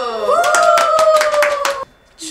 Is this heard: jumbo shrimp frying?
no